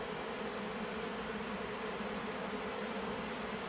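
A honey bee swarm hums steadily and closely, many bees fanning at once in a dense, continuous buzz that holds even throughout without pauses or voices.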